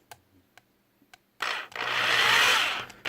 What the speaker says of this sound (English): So a little bit of noise for you from the drill.